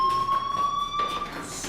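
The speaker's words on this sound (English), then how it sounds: "do you hear that fire alarm? That means you should be outside." A fire alarm in the video game Life Is Strange rings as a steady, piercing electronic tone, loud and continuous, with faint background ambience.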